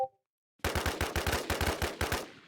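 Automatic gunfire in the online survival shooter WarZ: after a brief quiet start, a rapid burst of about a dozen loud, close shots rattles off in a quick, even rhythm before stopping abruptly.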